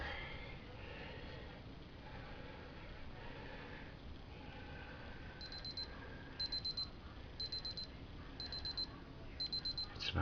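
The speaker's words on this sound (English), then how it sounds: "It's my 9 o'clock alarm." A 9 o'clock alarm clock rings in a series of short, regular electronic beep bursts, starting a few seconds in and repeating steadily over a constant background hum at moderate level.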